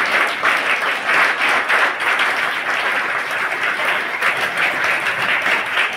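Loud, sustained applause from an audience at a cultural programme for Chhatrapati Shivaji Maharaj's birth anniversary, many hands clapping together in an even, unbroken wash.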